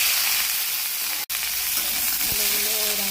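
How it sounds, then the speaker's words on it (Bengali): Potatoes fry in hot oil with a loud, continuous broadband sizzle, close up, briefly cut by a dropout and joined near the end by a faint tonal hum. "বন্ধুরা, ওই তেলে আলুগুলো ভেজে নেব।"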